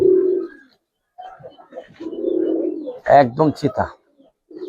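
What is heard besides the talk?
Giribaz pigeons cooing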